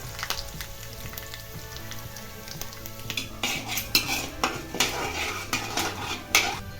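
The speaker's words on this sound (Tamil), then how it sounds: "எண்ணெய் சூடான பிறகு 1/4 டீஸ்பூன் கடுகு சேர்த்துக்கலாம். கடுகு 1/4 ஸ்பூன், வெள்ளை உளுந்து 1 ஸ்பூன் போட்டுக்கலாம்." Mustard seeds and white urad dal fry in hot oil for a green bean poriyal, a steady sizzle and crackle beneath repeated metal clinks of a spoon against the pan, growing busier toward the end.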